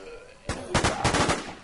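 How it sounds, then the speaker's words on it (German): Gunfire in the zombie survival video game The War Z, a burst of rapid automatic shots rattling at close range after a single sharp report, loud and alone. "da seht ihr jetzt auch mal Live-Geballer hier"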